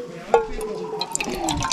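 Water trickles and splashes as it is poured into a runny spod mix for carp fishing, a quiet close pour with small drips and gurgles.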